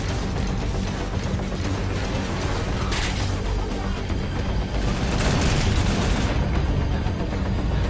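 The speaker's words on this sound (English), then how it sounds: "Whip out your machine gun. Fire at the floating boy." Continuous heavy gunfire and booming impacts from a machine gun fired at the floating boy during the Sahelanthropus boss fight in Metal Gear Solid 5: The Phantom Pain, loud and dense, with bursts building toward the end.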